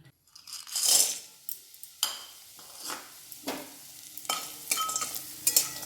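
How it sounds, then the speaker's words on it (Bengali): Lentil dumplings (bori) fry in oil in a wok, giving loud sizzling bursts and stirring scrapes that come in irregular surges, close up and with no voices. "তো প্রথমে বড়িগুলো ভেজে নেব। কড়াই তেল দিয়ে দিচ্ছি।"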